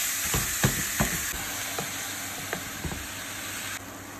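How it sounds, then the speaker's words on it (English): Meat fat rendering and sizzling in a pan for plantain lasagna, a steady close hiss with a few light clicks and stirring taps, and no one talking. "I'm going to render this fat instead of adding oil."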